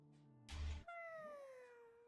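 A cat in a video game gives a single drawn-out meow that slides downward in pitch, preceded by a short rough burst, clear and fairly close.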